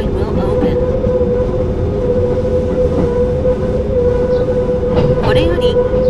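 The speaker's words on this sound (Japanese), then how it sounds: "いよいよこの電車は箱根の山を登ってまいります" A train in Japanese Rail Sim climbs into the Hakone mountains: a constant loud rolling rumble with a steady electric motor hum and occasional rail clicks, with muffled talk faintly underneath.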